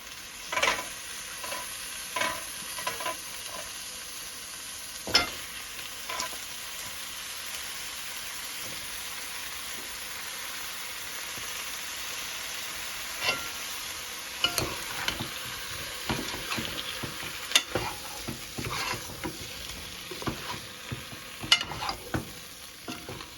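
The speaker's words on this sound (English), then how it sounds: "Fry it with the masala." Eggplant frying with masala for a beef curry, a steady close sizzle broken by repeated scraping stirs of the spoon in the pan, with no talking.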